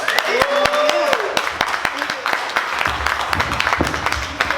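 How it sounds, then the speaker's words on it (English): Stand-up comedy audience applauding, rapid claps close by, loud at first and then thinning into scattered claps, with a whoop and a voice over the start. "Let's give one more round of applause to Cassandra"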